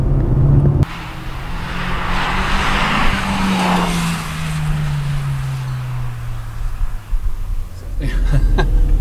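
A 2016 Honda Civic Type R FK2 pulls hard on the Mondello Park circuit, its engine note droning loud and steady, then sliding slowly downward in pitch before a brief dip and a fresh surge near the end.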